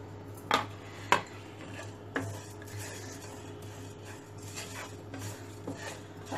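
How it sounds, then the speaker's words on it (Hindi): Coconut and cumin roasting in a pan, a low rubbing scrape of stirring broken by a few sharp clinks of the utensil against the pan, close and quiet with no speech. "अच्छा भुनने का, खुशबू आने तक भुनने का।"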